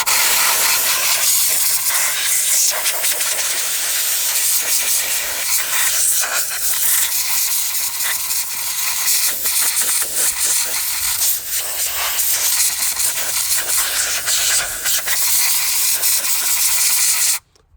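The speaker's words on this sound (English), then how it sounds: "all I'm gonna do is blow air around the motor and around everything else to get all that crap off of there" Compressed air blasts debris off a lawn tractor's motor, a loud, close, continuous broadband hiss that wavers slightly in force and cuts off abruptly at the end.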